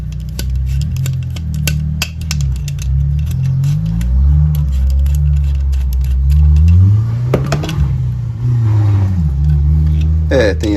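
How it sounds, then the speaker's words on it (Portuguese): A passing car revs its engine outside, a loud, droning roar that rises and falls in pitch as it drives by, with a person talking over it. "Tem alguém nervosinho andando de carro, hein?"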